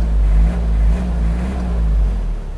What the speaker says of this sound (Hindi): रेस दे के देखता हूँ उसे।